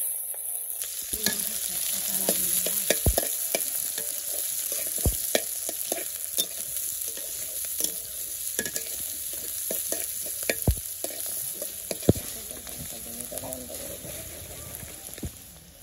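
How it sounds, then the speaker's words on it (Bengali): Onions fry in hot oil in a pan for a Bengali chicken curry, giving a constant bright sizzle. Sharp scrapes and clacks of stirring break in irregularly, and the spitting is loud and near. "আমি পেঁয়াজটা হালকা ভেজে নিচ্ছি"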